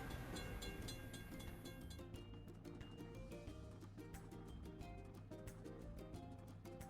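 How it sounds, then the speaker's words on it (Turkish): Cartoon car video game scene at a closed level crossing: a train rumbles past with a rhythmic clickety-clack of wheels and a brief horn-like tone early on, steady and moderately loud. "Geçit kapalı. Trenin geçmesini beklememiz gerekiyor."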